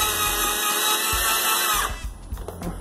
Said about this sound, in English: Push the drill forward.